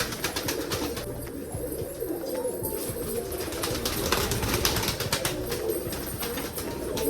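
Pigeons kept in a room on a rainy day coo softly amid shuffling and light thumps as they hop about, a steady low murmur with scattered taps throughout.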